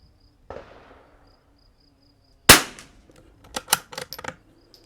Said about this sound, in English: Let's put these last 5 rounds